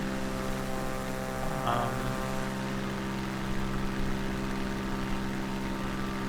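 A propeller airplane engine in Microsoft Flight Simulator 2020 holds a steady, even drone throughout, its tone unchanging and close, with no talking.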